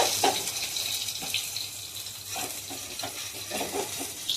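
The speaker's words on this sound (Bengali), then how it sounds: "সয়াবিনটা লাল লাল করে ভেজে দেবো" Soybean chunks frying in a pan for a vegetarian dish with pumpkin and potato, a soft, steady sizzle with scattered bubbling pops and a few stirring knocks, fairly quiet and close.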